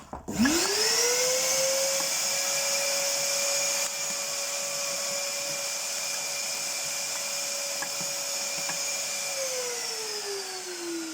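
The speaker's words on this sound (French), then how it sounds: "Je vais repasser un coup d'aspirateur au fond quand même, pour être sûr." A vacuum cleaner cleaning out a Rika Evo Aqua pellet stove runs steadily with a high-pitched motor whine, starting up abruptly and holding a constant drone before winding down slightly near the end.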